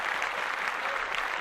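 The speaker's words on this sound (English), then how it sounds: "All right, let's clap that up" Podcast hosts and guests clap together after a book recommendation, a short, steady burst of clapping lasting about a second and a half.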